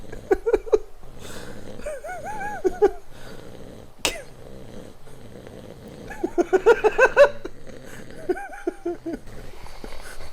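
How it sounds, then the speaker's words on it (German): A man snores in rhythmic, rasping breaths, the bursts swelling and fading against a quiet background, with a few faint noises in between and no clear speech. "Die schnarchen um die Wette, Alter."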